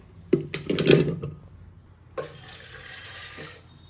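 About two glasses of water splash into a metal pressure cooker in a quick gush, then a quieter trickle follows, close and fairly soft.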